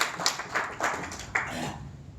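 An audience at a networking talk claps in a few loose, uneven bursts that sound thin and light, as if from a small group, with no talking.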